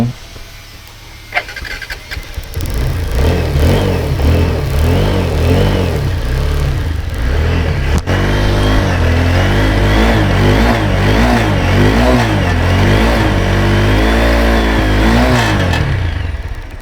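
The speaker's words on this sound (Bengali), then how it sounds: "ইঞ্জিনের সাউন্ড একদম স্মুথ কন্ডিশনে আছে" A second-hand motorcycle engine starts after a brief crank, then settles into a loud, close, steady run with repeated revving swells over roughly fourteen seconds, no talk.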